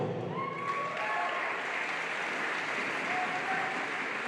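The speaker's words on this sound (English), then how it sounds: "Please applaud them one by one as they come out to receive the medals from Rosie King" Audience applauding netball runners-up as they receive medals at a championship grand final ceremony; steady, dense clapping from a large crowd fills the whole stretch without pause.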